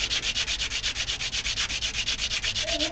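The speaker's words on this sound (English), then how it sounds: "You guys love the smell of sanding bone?" Bone is sanded by hand with fast, regular back-and-forth strokes, about ten per second, as a steady, close, gritty rasp that carries alone without talk.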